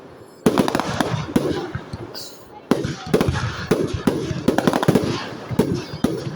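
Fireworks at a public display at Schneider Toshiba in Pacy, France, bursting in a rapid irregular string of loud booms and crackles with a gap mid-way, while spectators exclaim over them.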